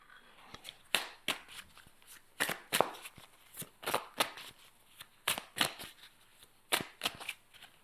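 Playing cards from a French board game are drawn and handled at close range, giving a run of crisp, irregular snaps and slides with brief pauses, no talking.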